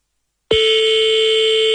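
A telephone ringback tone on an outgoing call starts abruptly after a short silence and holds as a steady, loud electronic buzzing tone with no voices.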